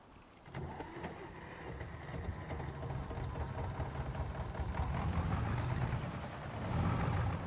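A tractor engine in Farming Simulator 25 runs with a steady rough mechanical rumble and rattle, constant and fairly loud, building slightly near the end, with no talking.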